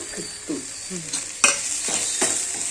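Washed banana flower fries in plenty of oil with a bright constant sizzle, while a spoon scrapes and knocks rhythmically against the pan up close, with no one speaking.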